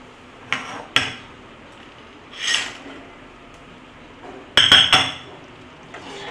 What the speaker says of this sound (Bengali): এবার আমি বাতাসা দিচ্ছি।